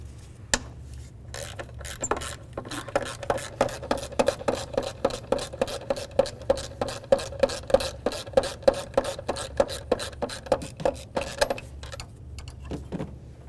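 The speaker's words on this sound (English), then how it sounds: "let's continue on to removing this bolt right here using a 12mm" A ratchet wrench with a 12mm socket clicks rapidly and evenly while backing out a bolt on a 2007–2012 Nissan Sentra during exhaust manifold gasket work, close and crisp over a low hum.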